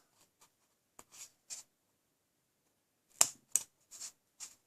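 Scissors trim paper mermaid tails at an angle for a handmade card, producing a few sparse, quiet snips in two short clusters separated by silence.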